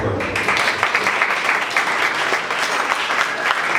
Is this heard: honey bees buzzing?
no